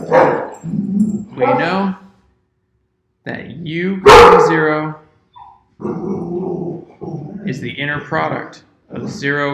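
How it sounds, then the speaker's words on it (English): A dog barks and growls loudly nearby in a sudden burst in the middle, cutting into a calm indoor lecture on inner products that carries on before and after it. "sorry, that's the dog."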